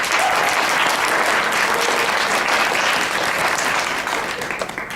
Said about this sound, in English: But they applauded!